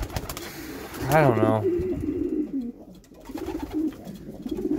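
Pigeons coo softly in a loft, a short clear burst of warbling calls followed by a low murmur of cooing and shuffling, with someone speaking briefly.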